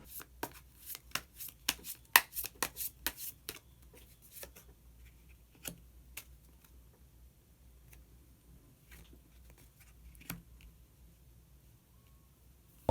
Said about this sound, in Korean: 그러면 히든 카드를 한 장 더 뽑아보도록 하겠습니다.